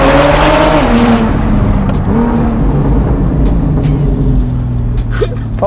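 A Porsche 911 Turbo S 997.2 Cabriolet accelerating hard, its engine loud and close with rising revs through a gearshift, then fading away as the car pulls off.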